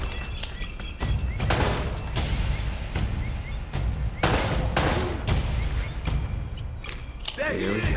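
Gunfire in the video game Uncharted: Drake's Fortune, with a run of sharp, loud shots in irregular bursts over a busy combat din, while someone talks now and then.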